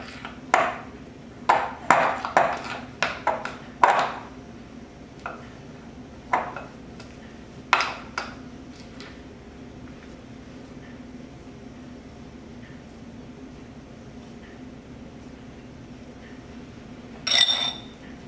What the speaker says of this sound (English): Now I'll just mix the chocolate spread into the marshmallow.